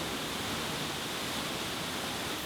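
A waterfall on a turquoise river in Costa Rica rushes in a constant, broadband roar of falling water, loud and unbroken with no voices.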